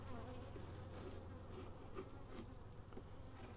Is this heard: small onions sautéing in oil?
no